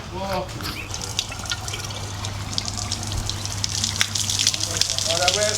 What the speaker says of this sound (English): We're running with water.